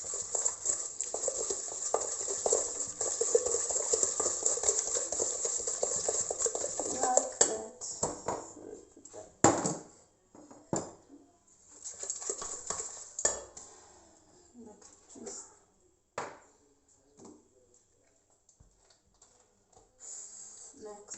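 Pineapple upside-down cake batter being mixed after canola oil is added: about seven seconds of continuous, fairly quiet scraping and stirring in a bowl, then sparser clinks and scrapes that fade out.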